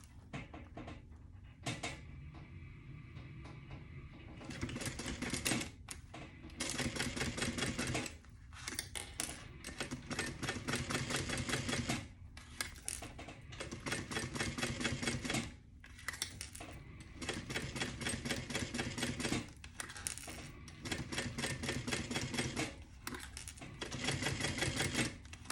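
A sewing machine stitching a tote bag at a longer stitch length, running in calm steady bursts of rapid mechanical clatter with short pauses between runs, fairly close and alone.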